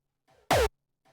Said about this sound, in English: And that makes our punch sound like this.